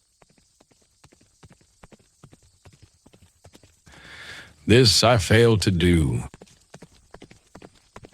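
A horse's hooves clip-clop at a steady walking pace on a hard path, moderately close, while someone narrates; partway through, the horse gives a loud whinny over the talk.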